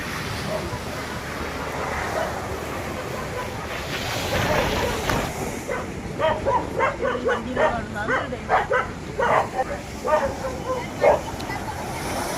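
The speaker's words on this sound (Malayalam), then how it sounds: "ഐസ്ക്രീം വണ്ടിയുടെ കൂടെ പട്ടി ഓടുന്നു." A dog running alongside an ice cream van barks repeatedly in quick bursts over steady outdoor rumble, fairly close, with a wash of background noise like surf or traffic.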